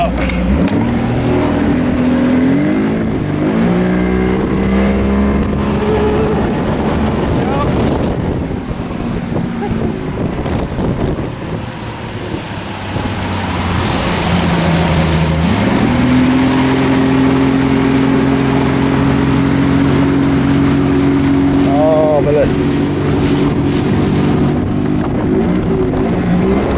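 A Yamaha 50hp outboard motor drives a boat on a lake, its engine droning loudly and rising in pitch as it revs, with heavy wind rush throughout and a voice briefly heard.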